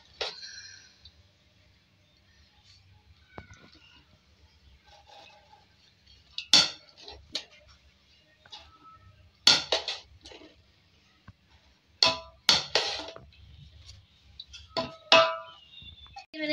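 Rice is added to a pot layered with masala for Pakistani chicken biryani, giving a few scattered metallic clinks and scrapes of utensil against the cooking pot, with quiet gaps between them and no talking.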